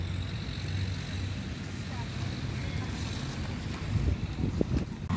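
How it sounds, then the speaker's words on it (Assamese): Steady wind rushes and buffets the microphone throughout, a broad continuous roar with a few gusty bumps near the end. "আজি যিহে বতাহ মাৰি আছে"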